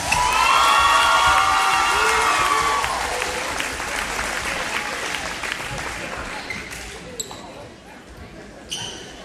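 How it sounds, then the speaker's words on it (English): Applause from a crowd in a school gym at a varsity boys basketball game at Lindsay Lane Christian Academy as two seniors are honored: loud clapping with cheers and whoops that fades gradually, with a few sharp knocks near the end. "Let's please give both of these seniors a round of applause."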